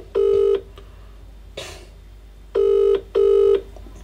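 A UK phone ringback tone on an unanswered call sounds in three loud bursts: a single ring, a pause with a faint rustle, then a closely spaced double ring.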